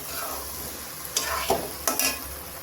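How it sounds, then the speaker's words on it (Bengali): Mutton sautéed with masala in a pan: a steady close sizzle with a few sharp scraping strokes of a spoon stirring through, no talking. "এবার এই মশলাটাকে এগুলোর সঙ্গে ভালো করে কষিয়ে নেব।"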